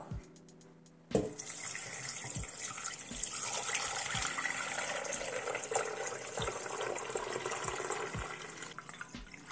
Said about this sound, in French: maintenant on va venir rajouter de l'eau